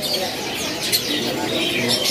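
Canaries chirping at a bird kiosk, a dense close chorus of twittering calls over constant background noise.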